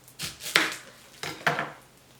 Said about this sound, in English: I'm going to slice them in big enough pieces where if I want I can kind of pick them out.